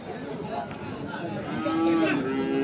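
Crossbred bull cattle at a busy livestock market in Dinajpur give a loud, drawn-out moo near the microphone, rising over crowd chatter and general market noise.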